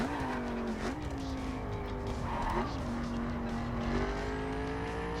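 Car engine whining and revving in The Crew, rising and falling in pitch with brief tire squeals as it drives and jumps, steady and close with no talk.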